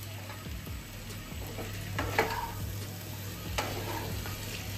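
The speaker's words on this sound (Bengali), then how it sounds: "দিয়ে এখন একটু ভালো করে নাড়াচাড়া করে নিচ্ছি" Pumpkin and potato curry stirred in a pan, with steady scraping and clinks of a spoon over a low sizzle and a constant hum, close and moderately quiet, with no voices.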